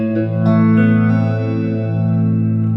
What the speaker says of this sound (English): Phaser is going to be like,